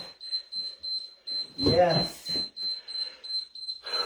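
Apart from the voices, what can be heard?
workout timer beeps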